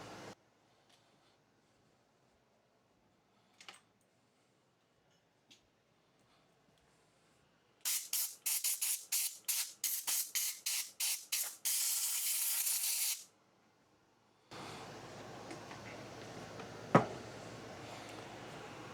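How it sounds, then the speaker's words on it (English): Compressed air blasts out a lawn mower's air filter housing in a rapid series of short, loud hissing bursts, then one sustained blow, followed by a softer, steady rush of air. "I'm going to hit that with some compressed air."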